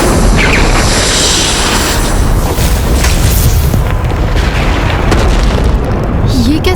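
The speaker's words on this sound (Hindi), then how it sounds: "ये कैसा विस्फोट हुआ?" A dense, roaring rumble of an explosion sustained at high loudness, with a thick low-end boom and crackling debris-like noise throughout.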